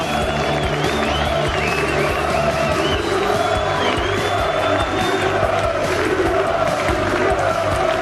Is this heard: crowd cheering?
yes